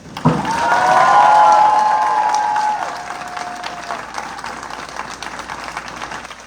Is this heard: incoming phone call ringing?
no